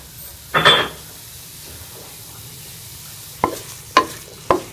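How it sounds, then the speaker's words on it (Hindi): Chopped apple pieces tumble into a cooking pot with one broad scraping rush, then, after a quiet pause, three sharp separate clinks of stirring, close and fairly loud, with no talking. "अब हम इसे बर्तन में डाल लेंगे और इसको थोड़ा सा हम सॉफ्ट कर लेंगे।"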